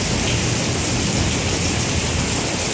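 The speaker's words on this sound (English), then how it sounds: "the rain continues on, and we will probably get a couple of inches or more from this thunderstorm" Heavy rain from a derecho thunderstorm in Crestwood, Kentucky pours down as a loud, dense, unbroken hiss, heard close from under a deck, with no distinct thunderclap and no voices.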